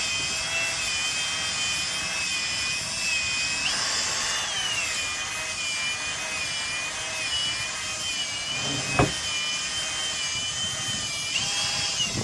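A car headlight lens is sanded with a power tool, producing a steady high whine and a continuous abrasive rasp close by. One brief louder scrape stands out partway through.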